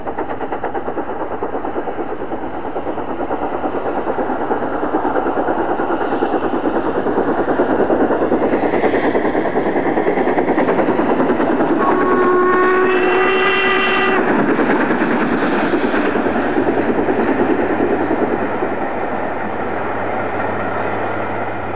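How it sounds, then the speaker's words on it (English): LMS express steam locomotive Duchess of Hamilton on a test run, a loud continuous rumble of the train with a whistle sounding midway, no voices. "Once again, we see an engine on a test run on the Derby Circle."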